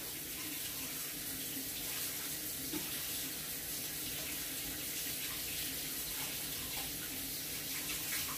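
Tap water runs steadily over a can held under the stream beside a crate in a kitchen, a constant hissing splash throughout, fairly quiet.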